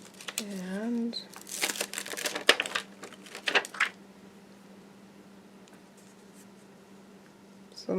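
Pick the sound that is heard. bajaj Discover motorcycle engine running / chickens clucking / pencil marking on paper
pencil marking on paper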